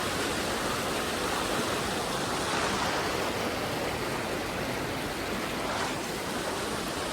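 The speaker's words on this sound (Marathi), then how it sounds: "नदी इकडे खाली येते" A mountain river in Pahalgam rushes past close by, a loud, continuous broadband roar of flowing water with no pauses.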